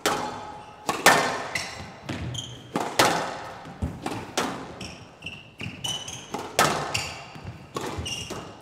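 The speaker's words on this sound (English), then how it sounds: "Oh, she's clipped the top of the tin." In a professional women's squash quarterfinal at the 2023 Manchester Open, a squash ball strikes and clips the top of the tin during a fast rally. It comes as one of a string of sharp, echoing thuds and smacks mixed with high shoe squeaks on the court floor.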